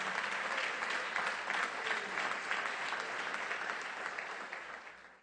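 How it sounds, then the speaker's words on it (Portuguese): Church congregation applauding during a sermon, a sustained wash of many hands clapping at moderate level, even throughout and tapering off at the end. "E pode aplaudir a Jesus por isso."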